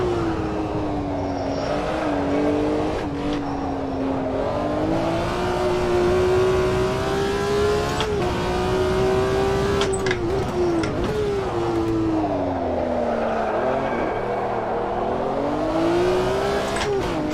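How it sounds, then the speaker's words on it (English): BMW M1 Procar held in a long slide at Jerez in the racing game Automobilista 2, its engine droning and rising and falling in pitch as the revs swing, with tyre scrub underneath, steady and close throughout. "You just chuck it in, maintain that slide all the way through."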